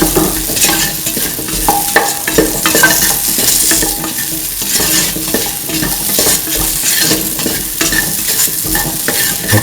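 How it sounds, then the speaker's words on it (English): Mung bean and potato vermicelli pasta being stirred and mixed in a hot pan, with continuous close scraping and tossing over a steady loud sizzle, no voices. "Thoroughly mix."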